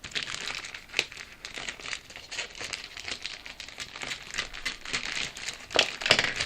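Cardboard and plastic packaging of a Match Attax starter set being unwrapped up close, with continuous crinkling and crackling and sharper rustles and tears throughout, no talking.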